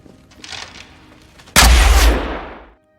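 A sudden, loud blast of film gunfire in a fog-filled shootout erupts after a quieter rumbling stretch, holding dense and booming for about a second before trailing off into silence.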